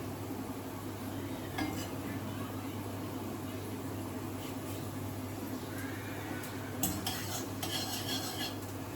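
Black mustard seeds go into a pan on a gas stove and are stirred, with a steady sizzle beneath scraping utensil clatter and a few sharper metallic clinks.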